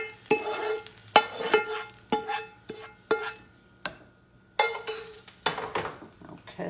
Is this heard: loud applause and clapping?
no